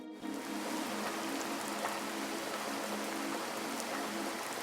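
Steady, even rain falls in a dense hiss with fine pattering drops, holding constant and uninterrupted throughout with no voices.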